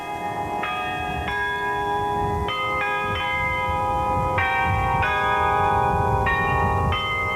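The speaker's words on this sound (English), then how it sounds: "And then came the peal of church bells across the city, across the state, and across the country." Church bells pealing in Oklahoma City on the day of bombing memorial services, a run of overlapping rung strikes with ringing tones over a steady outdoor background.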